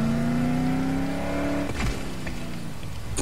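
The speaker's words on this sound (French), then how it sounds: "Une caisse." A car in Dead Island Definitive Edition drives with a loud, close engine drone that rises steadily, then cuts back abruptly partway through and settles into a lower rumble.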